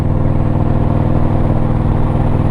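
An Indian motorcycle fitted with a TAB Performance B.A.M. slip-on exhaust with zombie baffles idles with a loud, deep, throbbing growl, close up and steady throughout, no talking.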